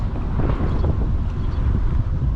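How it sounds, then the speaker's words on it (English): Strong wind buffets the microphone on open water during kayak fishing, a loud, steady broadband roar with rumbling gusts throughout and no voices. "The wind is ripping."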